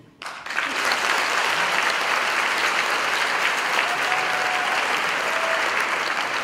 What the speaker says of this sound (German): dann klatschen jetzt alle Frauen in die Hände, die mich erotisch finden.